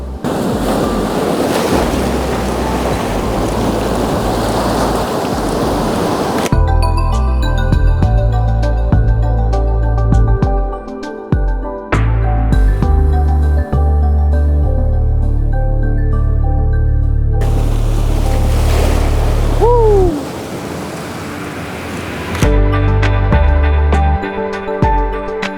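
Big ocean waves crash onto a seascape shoreline in a loud, continuous wash of surf, with wind buffeting the microphone; background music plays over much of it.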